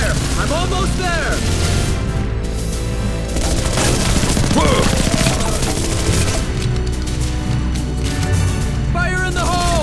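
A loud, dense barrage of gunfire and explosions fills a battle in the video game Global Ops: Commando Libya, continuous and close, with shouted voices over the shooting.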